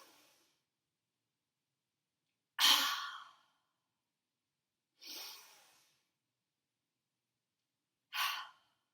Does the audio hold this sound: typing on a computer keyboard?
no